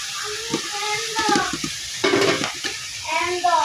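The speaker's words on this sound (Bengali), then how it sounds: "সব দিয়ে আমি ভালো করে কষাই ফেলবো। এখন টমেটোগুলো দিয়ে দিচ্ছি" Tomatoes and spices fry in a pan for a fish curry, giving a steady close sizzle with stirring scrapes throughout, while a voice and faint talk come and go underneath.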